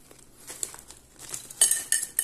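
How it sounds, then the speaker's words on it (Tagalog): Crispy vegetable chips of okra, mushroom and eggplant tipped out of a plastic bag onto a plate, giving light rustling and scattered clinks that build into a louder crinkly patter toward the end, with no talking. "Bubuhos po natin sa ating plato."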